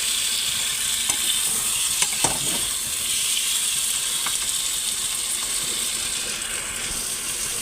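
Bhola fish sizzling as it is stirred and sautéed in a frying pan, a steady frying hiss broken by a few scraping stirs, close and continuous with no talking.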